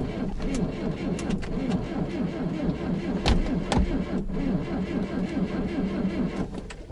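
Cold engine of an IZh Kombi or ZAZ 968 cranking in frost without catching, a steady labored chugging with a few thumps, and someone talking over it.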